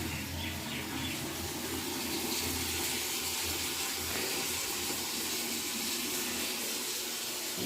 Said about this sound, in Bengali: জলটা ভরতে থাক